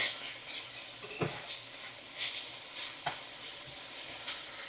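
Green beans frying in a pan give a steady low sizzle, broken by occasional stirring scrapes and light clinks of a utensil against the pan, heard close and alone without talk.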